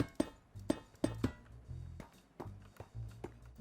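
A voice imitates the sound of walking on a Minecraft anvil, using a series of short, close tapping clicks in an uneven rhythm, with no other sound behind them.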